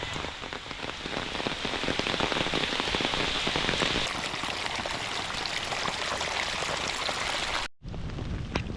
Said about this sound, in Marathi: पावसाने परत एकदा जोर वाढवलाय बघा जोरातच आला